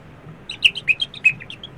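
A percussionist plays an instrument that imitates birdsong, producing a quick cluster of high, bright chirps and tweets over about a second, close and clear against a quiet background.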